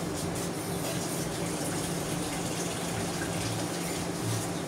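Steady rushing water pours continuously into a cooking pot of banana pith and chicken, a dense, unbroken splashing that stays loud throughout.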